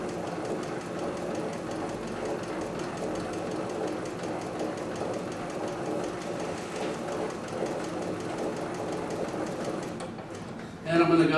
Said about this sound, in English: So I'm just going to start sewing here